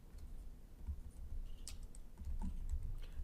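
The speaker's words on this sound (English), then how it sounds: "if I just type in the first few letters of a command and I hit the escape key on my keyboard" Someone types on a computer keyboard, producing soft, irregular clicks and taps that are faint and muffled against low background noise.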